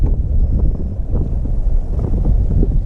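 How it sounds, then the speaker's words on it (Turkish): Strong wind at sea buffets the microphone aboard a fishing boat, a loud, continuous low rumble with gusty swells and no speech. "Hava şu anda 19-20'lerde esiyor. Bayağı yüksek."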